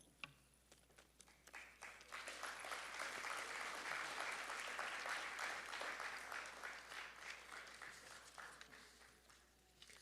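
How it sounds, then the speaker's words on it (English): Audience applause for award recipients at a Black History Month kick-off ceremony, swelling into a steady, fairly distant wash of many hands, then tapering off toward the end. "So another round of applause for all of our award recipients."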